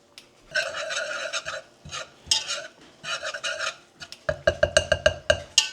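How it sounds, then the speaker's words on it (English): Flour is stirred into butter cooking in a pan for mac and cheese, a series of close scraping strokes in uneven bursts that turn into quick, regular, evenly spaced scrapes at the end. "Now we're gonna add 4 tablespoons of flour to this butter and let it cook for 1"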